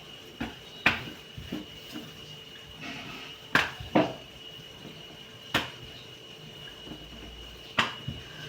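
A metal lid is set onto a cooking pot and shifted into place, making several sharp clinks and knocks scattered over a few seconds against quiet background hum.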